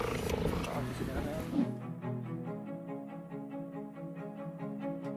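A cheetah rumbles with a steady, rhythmic purr close up, its repeated pulses running on after a louder burst of mixed noise at the start.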